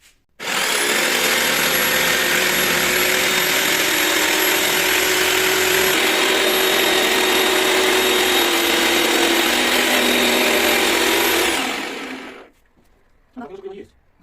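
A jigsaw cuts steadily through material while a fireplace is being built, a loud, continuous buzzing whine close by for about eleven seconds that then stops, followed by brief voices.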